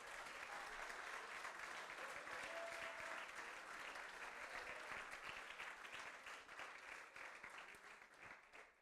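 A church congregation claps steadily during a worship service, a broad wash of applause that stays full and even before thinning slightly toward the end, heard at a distance and fairly quiet.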